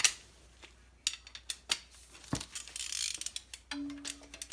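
Ratchet wrench loosening a nut while a turbo is swapped on a Toyota 3SGTE engine, with sharp clicking bursts, metallic taps and clanks close by, in quiet stretches between strokes.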